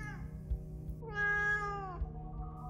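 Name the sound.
cats yowling noisily, horror story sound effect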